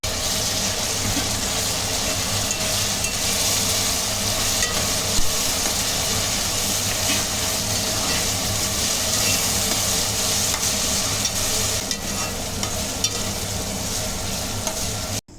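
Mint and fenugreek leaves stirred in a hot pan for aloo kurma, a loud continuous sizzle with a steady rush of scraping and churning, close and unbroken.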